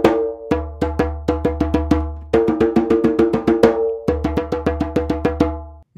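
Djembe drums playing simple one-liner rhythms, crisp repeated hand strikes in steady looping patterns with brief pauses between phrases, loud and close with no talk.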